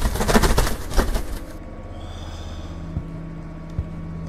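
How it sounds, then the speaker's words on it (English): A pigeon coos softly in The Last DeadEnd demo, a couple of low, brief calls over a quiet hum after an initial burst of clattering noise. "Shut up, pigeon."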